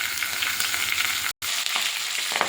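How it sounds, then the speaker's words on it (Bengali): A catla fish head fries in hot oil in a wok with a loud, steady sizzle and crackle. There is a brief cut partway through, and no one speaks. "কাতলা মাছের মাথাটা ভেজে নেব"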